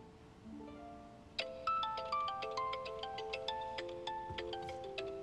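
A mobile phone ringtone plays a bright melodic tune of quick repeated chime-like notes, clear and fairly close in a quiet room.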